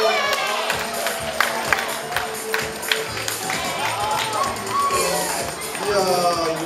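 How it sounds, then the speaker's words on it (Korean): Audience at a school Christmas service clapping and cheering to welcome a performer, with rhythmic thumps and a voice speaking over the lively crowd noise. "박수로 환영해 주세요."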